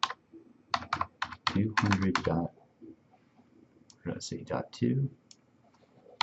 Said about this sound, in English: type in the IP address